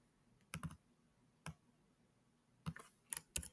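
Keys clicking on a computer keyboard in short bursts of a few taps, separated by pauses, fairly close and quiet with no talk over it.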